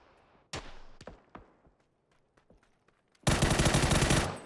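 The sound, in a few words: gunfire in the video game PUBG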